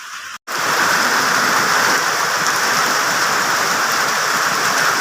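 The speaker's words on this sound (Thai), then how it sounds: "ฝนมาแล้วครับ" Steady, dense rain pouring down close by, a constant wet hiss that starts abruptly after a brief pause and continues without letup.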